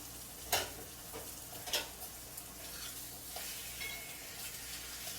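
Thick slices of bologna fry in a hot skillet for a Southern-style casserole, giving a soft, steady sizzle with a couple of sharp utensil clicks near the start.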